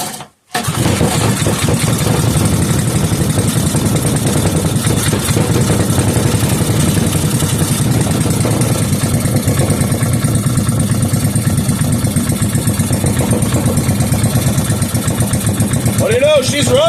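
A 5 hp Briggs and Stratton small engine catches after a brief pause and runs loudly and steadily for the rest of the clip, a continuous close-up chugging drone.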